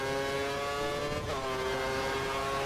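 Ferrari Formula 1 car engine in a racing video game, a steady high-pitched whine with strong harmonics held loud and continuous throughout, with a brief shift in pitch midway as it slipstreams.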